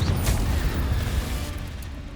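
Confringo blasting curse going off in Hogwarts Legacy, a loud, dense low boom with a sharp burst at the start that rumbles on and fades slightly over two seconds.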